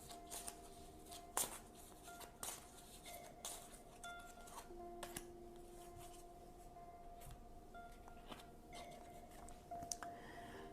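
Tarot cards being shuffled and drawn by hand in a quiet room: soft, faint riffles, flicks and papery taps that come in scattered, uneven bursts, with no talking.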